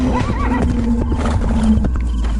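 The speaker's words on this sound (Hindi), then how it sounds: "घोड़े पर सवार होकर ज्ञानचंद दूसरे राज्य की सीमा में चला गया" Cartoon horse gives a loud, close whinny followed by a few clip-clopping hoof beats over a steady low background hum.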